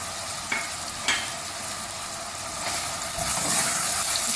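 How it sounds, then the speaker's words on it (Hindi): Chicken ginger masala with crushed onion, chopped tomato and finely cut ginger being stirred in a frying pan, a steady close sizzle with a few sharp scrapes of the spoon against the pan. "इसको मिक्स करेंगे अच्छी तरह से"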